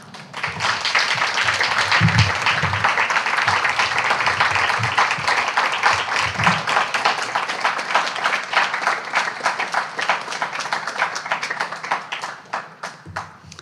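Sustained audience applause for poet Victoria Chang at a reading, dense steady clapping filling the room for about twelve seconds before thinning out at the end.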